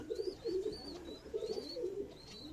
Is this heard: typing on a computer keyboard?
no